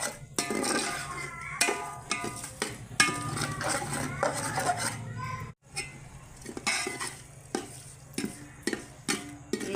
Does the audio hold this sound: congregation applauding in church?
no